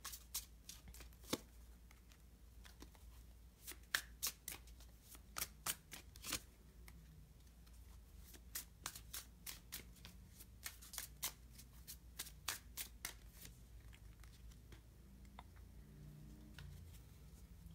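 Sovereign Oracle cards being shuffled by hand, a steady run of crisp riffling snaps and soft slaps repeating at close range in a quiet room with no talking.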